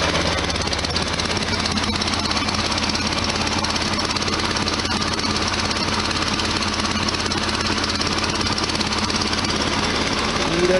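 A 1973 VW Super Beetle engine runs steadily at idle after a gasket repair, a constant loud rattling clatter with no pauses or voices.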